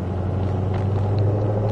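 A Shelby's engine holds a deep, steady rumble while accelerating in third gear, heard from inside the car as a continuous loud drone with no break.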